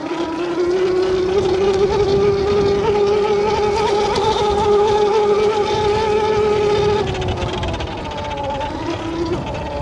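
A Tuttio Soleil Lo electric dirt bike at full throttle gives off a steady, loud, high motor whine that holds its pitch and then drops slightly near the end, with wind rush underneath.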